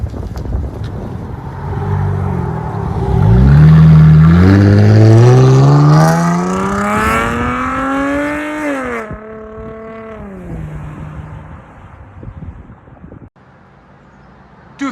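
A 2016 Dodge Challenger V6 with aftermarket exhaust and factory catalytic converters revs hard, its pitch climbing in one long sweep before easing off and settling back to a steady idle. The sound is loud and close, with no talking.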